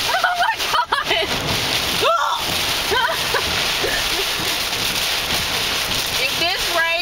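Heavy rain pours down in surging waves, a dense loud hiss and splatter on nearby surfaces, with a few brief vocal sounds rising over the downpour.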